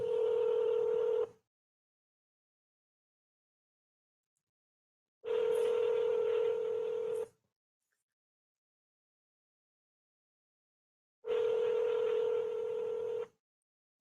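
Telephone call ringing out after a number is dialed: three long, steady ringback tones, each about two seconds, separated by silent gaps and heard clearly with no talking.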